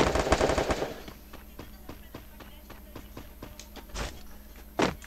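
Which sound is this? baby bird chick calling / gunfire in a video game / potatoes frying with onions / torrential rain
gunfire in a video game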